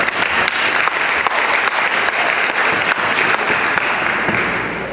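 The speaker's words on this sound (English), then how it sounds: "One more round of applause for him." An audience at a panel discussion gives a speaker a loud round of applause that carries on steadily for about five seconds. The dense clapping fills the room and eases slightly at the close.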